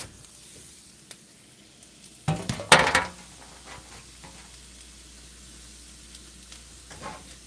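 Breakfast food is laid into a hot pan and bursts into a loud, crackling sizzle that lasts about a second, then fades back to a faint background hiss with a few small clinks.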